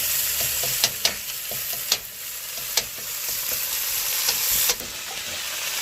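Red pepper stir-frying in a pan for Thai drunken noodles, a steady broad sizzle with scattered sharp clicks and scrapes of stirring, close and fairly loud, no talk.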